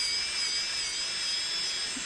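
A high-pitched electric nail drill with a safety bit whines steadily with a thin, airy hiss, running continuously at close range during a gel nail infill.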